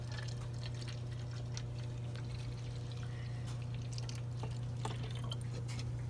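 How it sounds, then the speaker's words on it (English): Homemade lemon-lime soda made with sugar, lemon and lime is poured steadily into a container, a continuous liquid trickle with small splashes over a constant low electrical hum. "The final step is pouring it into your container."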